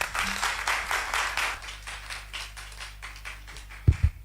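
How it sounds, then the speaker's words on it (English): At a high school debate, an audience claps in a rhythmic, pulsing pattern for a speaker, fading slightly before two sharp thumps close it out. "A round of applause for him, please."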